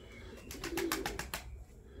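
Pigeons coo softly nearby in a short burst of rhythmic, throaty calls over a low background hum.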